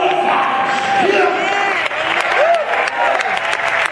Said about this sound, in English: Oh, clap your hands one more time.